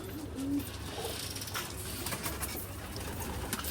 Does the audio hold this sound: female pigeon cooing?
yes